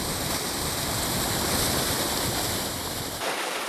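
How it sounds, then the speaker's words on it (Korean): Meltwater rushing beneath a glacier in Norway, a steady broadband roar that holds loud and unbroken, then drops off sharply near the end. "여기 물소리가 들립니다."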